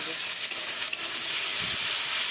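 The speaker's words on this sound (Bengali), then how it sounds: "ভালো করে নেড়ে নিলাম।" A green jackfruit and prawn curry sizzles loudly and steadily in a pan while being stirred, a close, continuous hiss with faint scraping underneath.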